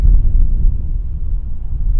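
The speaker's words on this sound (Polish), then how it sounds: "Strasznie wietrznie jest." Strong wind buffeting an outdoor microphone, a continuous low rumbling roar with no other sound.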